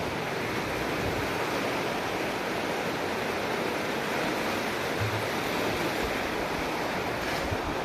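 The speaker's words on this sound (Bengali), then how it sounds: "আরে বাইরে কিন্তু খুব আকারে ঝড় বৃষ্টি চলতেছে, প্রচুর বৃষ্টি হচ্ছে বাইরে।" Heavy rain and a storm pour down outside on an early morning, a dense, steady roar of water that fills the whole clip without a break.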